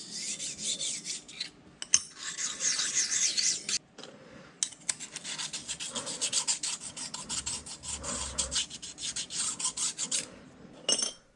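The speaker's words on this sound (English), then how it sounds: "we'll go ahead and spend a little time deburring the back of this" A stone deburring the back of a machined steel backplate for a 10-inch South Bend four-jaw chuck, heard as close, repeated dry scraping strokes in uneven bursts with short gaps, no talking.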